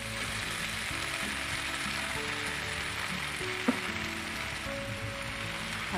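Rice vermicelli and wilted vegetables fry in a pan with a steady close sizzle, light scraping and clicking from stirring, and one sharp tap midway.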